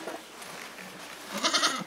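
A goat bleats on a small livestock farm in the Altai countryside, a loud wavering cry near the end of the clip, heard close up over soft background noise.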